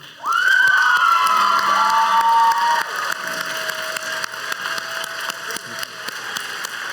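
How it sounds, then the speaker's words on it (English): A crowd at a graduation ceremony cheers and whoops loudly with a high shout near the start, then settles into scattered clapping and background noise. "Scholars, if you could give a round of applause to them."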